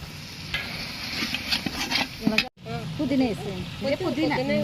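Chicken fries for biryani in a pot, bubbling and sizzling steadily close by with stirring clatter and a brief dropout, while someone talks over it.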